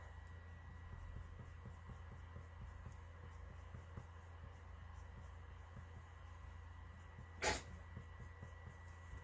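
A single short sneeze bursts out near the end, close and fairly loud, against a low steady hum in a quiet room with no talking.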